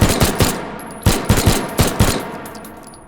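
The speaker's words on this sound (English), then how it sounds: "Let's go ahead and fire this. Take some shots." A pistol fires repeated gunshots in the VR shooting game H3VR, with sharp, loud reports in quick clusters of two or three and short pauses between them.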